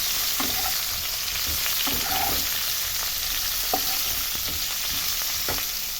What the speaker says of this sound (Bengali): এবার ভাজবো ফুলকপি।